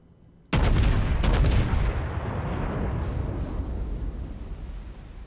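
USS Texas battleship main guns firing in World of Warships, a sudden loud close broadside blast followed by a second report, then a long rumbling decay.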